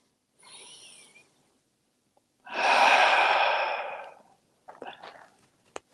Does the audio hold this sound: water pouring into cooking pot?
no